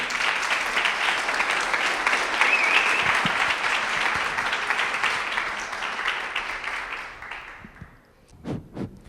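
A crowd gives loud welcoming applause for a guest arriving at a talk, sustained clapping that fades out near the end as a few voices begin.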